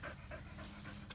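A dog pants close by in rapid, soft, rhythmic breaths, quiet and alone.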